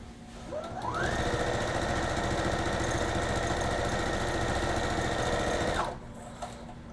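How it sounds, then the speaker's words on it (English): A sewing machine runs a practice seam in one continuous burst of about five seconds. It speeds up smoothly, holds a steady rapid hum of stitching, then stops abruptly, with quiet before and after. "This is just for me to like practice for a bit before I actually get into sewing a thing."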